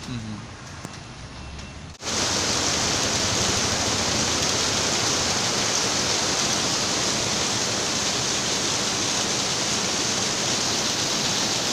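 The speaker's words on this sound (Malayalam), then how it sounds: "നല്ല മഴ പെയ്യണ്" Heavy rain in Kerala starts abruptly after a quiet moment and then pours as a dense, even roar of falling water that continues unbroken and loud.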